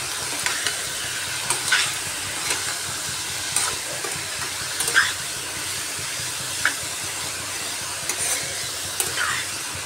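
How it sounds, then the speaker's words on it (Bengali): Potatoes and yardlong beans sautéing with spices in a pan sizzle steadily throughout, broken by repeated scraping stirs of the spoon at irregular intervals; no voices. "এইভাবে মশলার সাথে আলু বরবটিকে ভালোভাবে কষিয়ে নিচ্ছি।"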